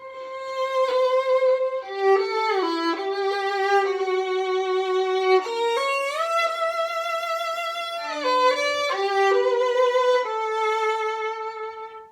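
A violin plays the B section melody of a Massenet piece, a sustained, singing line with smooth slides between notes and steady bowing, loud and close, with no talking.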